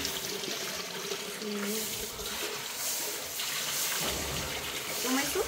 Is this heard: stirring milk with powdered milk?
no